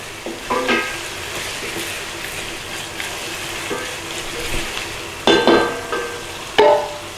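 Butter and tomatoes sizzle in a pan for shrimp linguine, a steady frying hiss broken by a few sharp clatters of stirring near the end.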